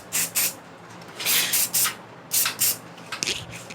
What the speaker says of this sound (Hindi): अब हम इनमें हेयर स्प्रे करेंगे।